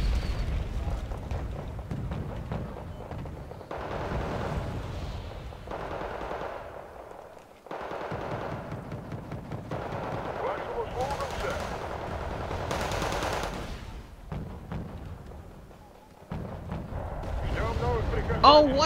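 Heavy artillery shells pounding mortar positions in the real-time strategy game Wargame, a dense run of loud booming blasts and rattling gunfire under an ongoing voice.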